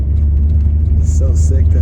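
A BMW E34 540i engine drones low and steady from inside the moving car on a drive around the block, with a voice talking over the rumble.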